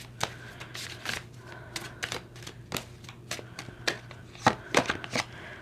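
Romance angel oracle cards being shuffled and drawn, a run of sharp papery riffles and snaps in an uneven rhythm, close and fairly quiet, with no voice.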